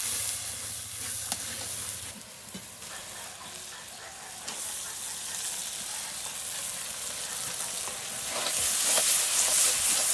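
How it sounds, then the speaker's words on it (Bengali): Dried loitta fish frying in hot oil in a wok with onion, green chilli, ginger-garlic paste, turmeric and chilli powder, a steady close sizzle with stirring scrapes that swells louder toward the end. "শুটকির জন্য তেল দিয়ে দিলাম কড়াইতে, পেঁয়াজ দিয়ে দিলাম, কাঁচামরিচ দিয়ে দিলাম"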